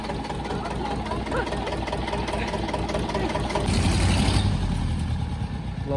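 A tractor engine runs steadily at close range, a low rumbling idle that swells slightly louder partway through, with faint voices in the background.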